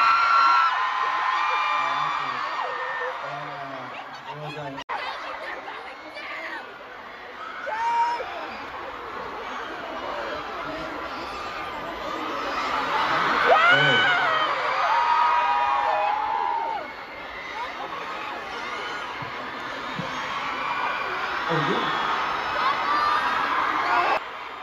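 A large crowd at a K-pop concert in Newark screams and cheers continuously, with shrill whoops and yells rising and falling in waves, loud and sustained throughout.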